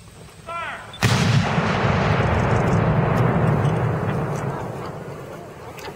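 A Civil War re-enactment artillery cannon fires a single loud, close boom that rolls into a long reverberating rumble, with a brief shouted command just before the blast.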